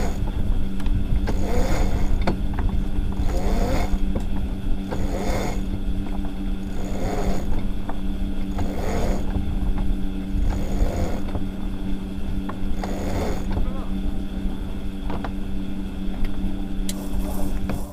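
A sailboat motoring under engine power at sea, with a steady low engine drone and wind noise, plus a regular series of soft rushing swells recurring every second or so.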